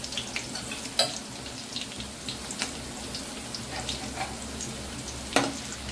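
Garlic frying in oil in a pan for fish curry, a soft continuous crackle with a few sharp clinks of a spoon against the pan.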